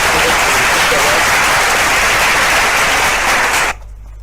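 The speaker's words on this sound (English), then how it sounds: "this is the time to give a big round of applause to for our faculty colleagues and students who received the awards" At an annual faculty meeting and symposium, an audience gives a dense, steady round of applause for award recipients, which stops abruptly near the end.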